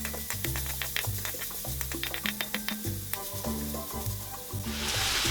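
Pork sizzles steadily in a hot pan with tomatoes, with clinking utensil taps as it is stirred, and the hiss swells louder toward the end.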